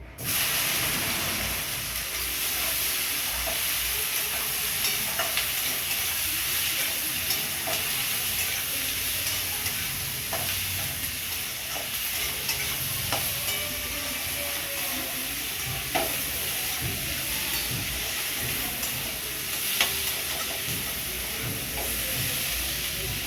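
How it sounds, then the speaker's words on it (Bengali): Onions sizzle in hot oil in a pan after potatoes have been fried, as the base of a thin chicken curry. The hiss is steady and loud throughout, broken only by faint occasional stirring clicks. "পেঁয়াজটা ভাজা হোক"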